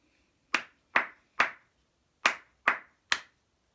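Six crisp hand claps, near and alone, marking out a word's syllables in a KS1 short-and-long sounds lesson: three evenly spaced, a pause, then three more.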